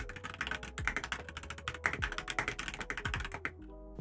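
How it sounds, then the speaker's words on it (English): Rapid typing on a Tofu 60 acrylic keyboard with Gateron Red switches, a close, steady patter of light keystrokes and occasional heavier bottom-outs, heard alone without talk. "And of course I had to give you a little clickety-clack test."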